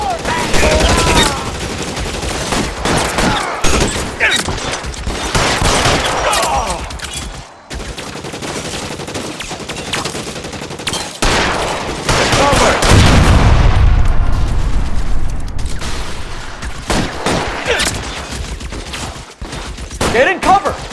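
Dense gunfire in an L.A. Noire shootout, rapid overlapping shots and bursts with booming impacts throughout, loud and close, with characters shouting over the fighting.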